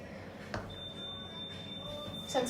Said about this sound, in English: Sensor beeps.